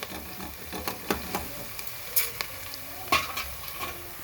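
Onions and green chillies fry in a pressure cooker for chicken biryani, a steady soft sizzle broken by a few sharp stirring clinks and scrapes, close by and fairly quiet with no talking.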